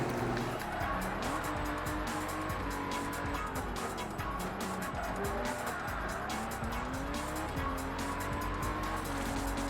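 A Lamborghini race car in a video game driving flat out near 200 mph, with a steady, loud engine drone and tire squeal that shift in pitch as it runs the straight.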